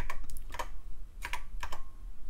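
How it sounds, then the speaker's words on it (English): Typing on a computer keyboard near a TRS-80 Model I running Level III BASIC, with short bursts of fairly loud clicks in uneven clusters and steady low hum underneath. "Hard typing around the camera."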